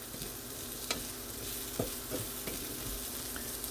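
Vegetables and onions frying in a pan with a continuous close sizzle, broken by a few sharp clicks and scrapes as they are stirred, with no voices.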